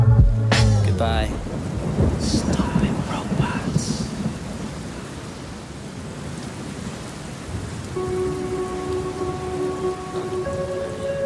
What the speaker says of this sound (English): It's raining. It's probably raining.